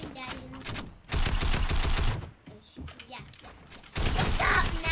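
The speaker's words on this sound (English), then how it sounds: "Oh my God, Teddy, don't shoot at me!" Tactical AR rifle fire in a 1v1 video game match, loud sustained automatic bursts in three separate volleys with short gaps, close and dominant, with excited speech between the bursts.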